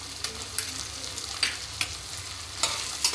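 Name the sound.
vegetables and peas being stir-fried in a pan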